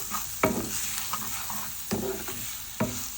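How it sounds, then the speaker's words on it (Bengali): Spices frying in a pan for a baim fish curry, a steady close sizzle with three distinct scrapes of a stirring spoon at irregular intervals. "আর এখানে আমি হচ্ছে মাছটা রান্না করার জন্য মশলা ভালো করে কষিয়ে নিচ্ছি"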